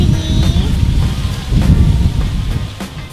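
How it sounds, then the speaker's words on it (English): Thunderstorm in a PJ Masks cartoon: a steady, loud wash of rain and rumbling thunder fills the whole stretch, with low booming swells and no speech over it. "I hope the storm is over soon."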